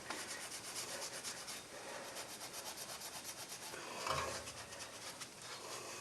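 Steady scrubbing on the front brake hub of a 2016 Kia Sorento makes quiet, rhythmic rasping strokes with one slightly louder scrape midway.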